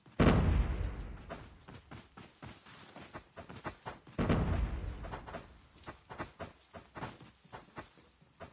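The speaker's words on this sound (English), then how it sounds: "Team 5, you hear gunshots on the right side." Gunshots in a competitive shooter match, two heavy booming blasts followed by a scattered run of sharper, fainter shots and pops, uneven in spacing, with no voices over them.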